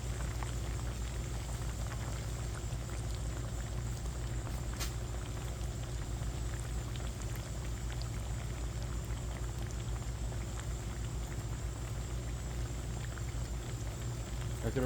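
Chicken fries in a pan with Parmesan cheese, a steady close sizzle and crackle of bubbling oil that carries on without a break.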